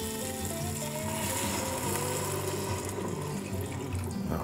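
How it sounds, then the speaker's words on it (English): Stock pours into a pot for fish stew in a continuous splashing, sizzling stream, close and steady throughout with no talk over it. "Let's go ahead and add our stock."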